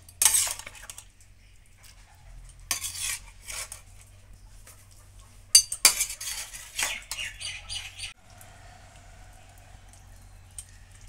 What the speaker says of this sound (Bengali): এখন এই টমেটোগুলো ছাঁকনিটায় তুলে নিচ্ছি।